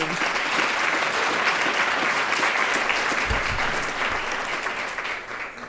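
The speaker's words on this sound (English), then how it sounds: "big round of applause to AT&T" Sustained applause from a banquet audience at an annual charity dinner, a thick, even wash of clapping that holds steady throughout and eases slightly near the end.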